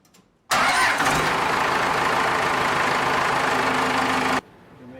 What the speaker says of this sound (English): So here we have a cold engine start.